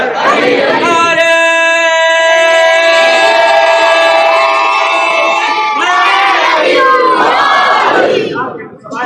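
A large crowd at a religious gathering chants slogans loudly in unison, a sustained massed roar of voices that holds for several seconds before falling away.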